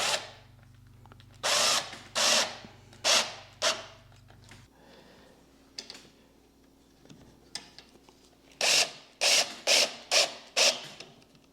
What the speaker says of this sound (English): As you drill these in, it tends to want to pull the panel in